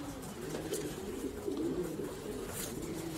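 Racing pigeons cooing in a loft, a steady low murmur of soft, overlapping coos that continues throughout at moderate distance, with no speech.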